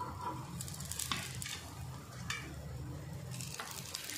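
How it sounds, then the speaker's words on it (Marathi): Chili cheese bites on bread toast in a pan over a low gas flame, giving a faint steady sizzle with light scraping and shifting sounds now and then. "स्लो गॅसवर हे भाजायचे"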